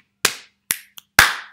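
Hands clap a short rhythm in a primary-school music game: four crisp, close claps with uneven spacing and a tiny tap between the third and fourth, each ringing briefly into a quiet room.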